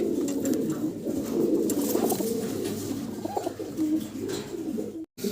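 Soft, continuous cooing from several pigeons close by, low murmuring calls overlapping steadily with a faint hiss in the background.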